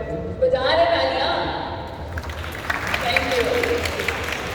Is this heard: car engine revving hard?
no